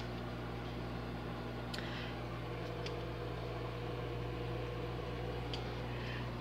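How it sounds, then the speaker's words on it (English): A steady low mechanical hum drones continuously with a faint electrical buzz, like an appliance running, with a few tiny clicks. "we're down to 1 minute and 14 seconds. This is a microwave."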